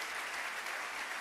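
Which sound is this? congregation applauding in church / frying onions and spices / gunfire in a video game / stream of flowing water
congregation applauding in church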